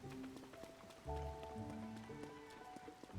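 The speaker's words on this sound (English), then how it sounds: "It rains an awful lot in this world." Steady rainfall in Tears of the Kingdom patters continuously at moderate level beneath sustained musical tones from the game's score.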